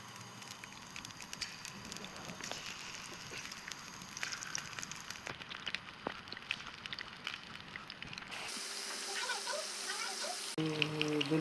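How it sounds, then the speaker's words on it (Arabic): Potatoes dropped into hot oil for frying, a continuous hissing crackle like rain that grows denser and louder toward the end, with no talk. "احنا حطينا هنا الزيت خلاص اتقدح اهو. ولعت عليه اتقدح. هحط البطاطس."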